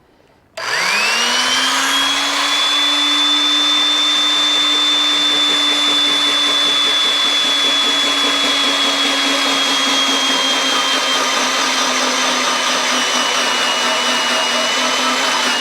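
A drill press turns a custom tenon auger to cut a tenon on a wooden wagon spoke, a loud, steady motorized whine and cutting roar that starts abruptly and holds, its pitch changing slowly as the cut goes on.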